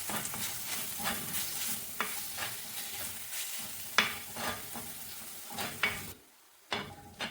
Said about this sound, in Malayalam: എന്നിട്ട് ഇതിൽ നന്നായിട്ടൊന്ന് ഇളക്കിയെടുക്കാം